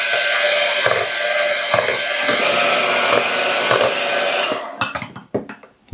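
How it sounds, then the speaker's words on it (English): Electric mixer running on low speed through cake batter for a from-scratch strawberry layer cake, a steady loud whir with soft periodic knocks that cuts out near the end, leaving a few light clinks. "And then we're just going to kind of mix it on low speed."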